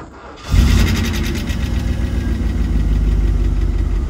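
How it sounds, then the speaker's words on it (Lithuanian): A VW Polo GTI engine cranks and catches, then settles into a steady, loud, close idle with a rhythmic pulsing drone that continues without talk. "automobilis užsikuria, variklis dirba"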